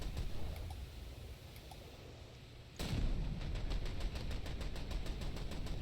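A slow-firing ship's deck gun in War Thunder, with one loud, close blast cutting in sharply, then a dense rumble and a rapid rattling roll of further fire and noise continuing behind it.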